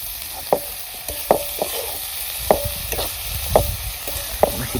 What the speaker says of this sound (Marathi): तर आता आपली सुकट घ्यायची तळून.